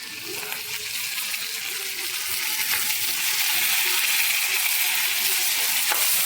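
Tomato, ginger-garlic paste and curry leaves frying with browned onion in a pan, for a stuffed brinjal bhaji: a steady, close sizzling hiss that grows slightly louder and holds on with no voices.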